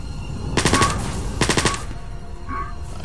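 Automatic gunfire in the game S.T.A.L.K.E.R. Anomaly comes in two loud, close rapid bursts, with a quieter mechanical clack afterward as the weapon jams.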